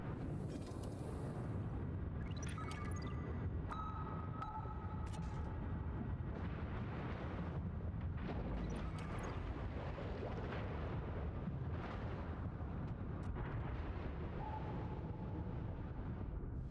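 A warship sinking underwater in World of Warships, heard as a steady, muffled roar with deep rumbling, bubbling and scattered creaks and metallic pings, continuous and fairly faint.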